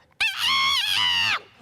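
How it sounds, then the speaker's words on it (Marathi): A rooster gives a single loud, close cock-a-doodle-doo crow lasting just over a second. Only a little quiet background comes before and after it. "तो कोंबडा आरवायचाच."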